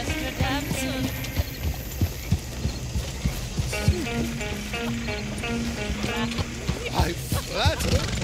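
Hooves of a horse-drawn coach clip-clop in a steady rhythm in Red Dead Redemption 2, close and clear beneath a tonal music or engine-like hum, with a few sharper knocks along the way.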